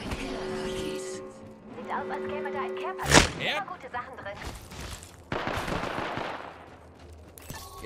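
Apex Legends Arena gunfire crackles in bursts with a sharp loud shot, mixed with other game effects and some voice-like sounds.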